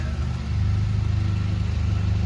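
A 2008 Audi TT 2-litre turbo engine with aftermarket exhaust idles nearby with a steady, throbbing low rumble, loud and even throughout.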